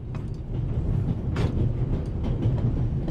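A train rolls along steadily in The Raven Remastered, a continuous low rumble with faint rhythmic clatter and some brief hissing swells, with no voices over it.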